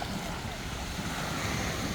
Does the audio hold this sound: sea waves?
yes